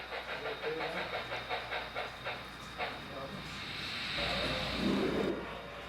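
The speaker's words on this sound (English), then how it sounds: "you can hear a steam engine coming up through the grade, through the canyon" A model steam locomotive chuffing in a steady rhythm as it climbs a grade on a layout, fading into a softer hiss and rumble, fairly faint with faint voices nearby.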